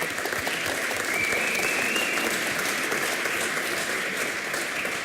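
An audience at the final pitch of a blockchain hackathon in Stuttgart applauds, giving dense, even clapping that holds steady for a few seconds without a break.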